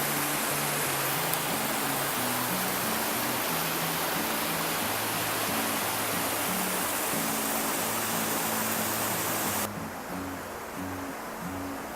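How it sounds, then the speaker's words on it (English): A small waterfall along the Appalachian Trail pours in a steady, loud, dense rush of falling water, continuous and unbroken throughout with no voices. "There's another view of this little waterfall area."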